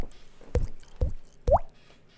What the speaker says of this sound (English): Water droplets.